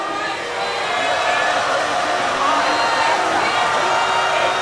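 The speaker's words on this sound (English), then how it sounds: "This crowd is loud." A loud indoor basketball crowd roars and cheers at a high school game in the closing minutes of a comeback, a dense, sustained wall of voices that swells slightly midway.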